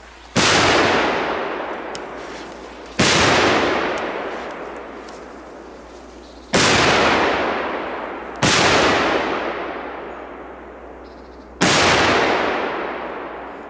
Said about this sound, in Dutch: Goeie knallers zijn dat, hè.